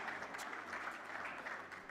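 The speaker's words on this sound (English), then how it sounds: "Can we have another round of applause for our esteemed dignitaries and guests?" An audience at a cricket league launch event applauds in a steady, fairly distant patter of clapping throughout.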